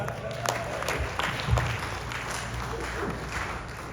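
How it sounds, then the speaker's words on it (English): An audience at an annual awards dinner gives sustained applause, a dense wash of clapping with some crowd noise that holds steady throughout. "Give him a round of applause."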